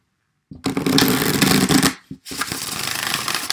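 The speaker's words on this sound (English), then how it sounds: "It's a little tough to shuffle, but I like it." A steampunk tarot card deck being shuffled by hand, a dense papery riffling that runs steadily, breaks off briefly with a couple of taps, then resumes as a second continuous shuffle.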